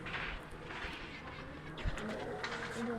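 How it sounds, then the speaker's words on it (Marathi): Soft pigeon cooing, low and murmuring, faint against a dull outdoor background hum. "हे पांढरं कबूतर आहे का, हे लय ब्रँड उडन."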